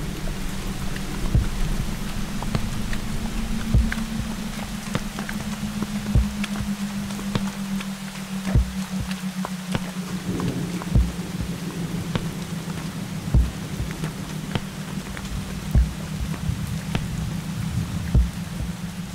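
Heavy rain pours steadily throughout, broken by repeated sharp cracks and rumbles of thunder, with a low hum underneath.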